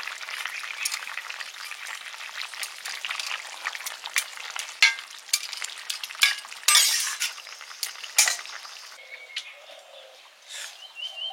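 Fish dropped into a pan of cooking vegetables, sizzling and frying with sharp crackles and bursts over several seconds, while birds call and coo faintly in the background outdoors.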